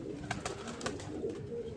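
A pigeon with heavily feathered feet coos in soft, repeated low notes, close by and steady, with a few sharper calls mixed in over a continuous background murmur.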